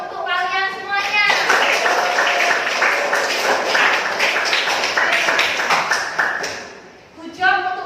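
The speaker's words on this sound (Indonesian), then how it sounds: "Anak, aplaus untuk kalian semuanya" A classroom of students claps together in quick, dense applause lasting several seconds, bracketed by a teacher's voice before and after.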